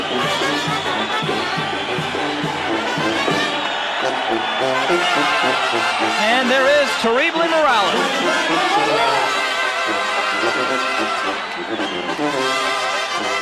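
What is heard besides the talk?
boxing arena crowd getting started up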